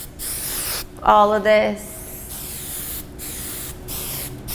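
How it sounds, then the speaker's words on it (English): Hairspray sprayed onto curly hair while a bridal bun is styled: one steady aerosol hiss close by, lasting about a second, preceded and followed by brief speech. "I'm gonna go ahead and spray"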